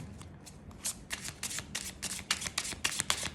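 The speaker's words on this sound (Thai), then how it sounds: "สักครู่นะคะสับไพ่ก่อน" Tarot cards are shuffled by hand in a run of quick, crisp riffles. Close, dry flicks come in uneven bursts, growing denser toward the end, with no talking.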